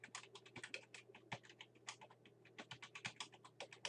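Rapid typing on a computer keyboard in a Word 2013 document, quick irregular key clicks close to the microphone, continuous with no talk.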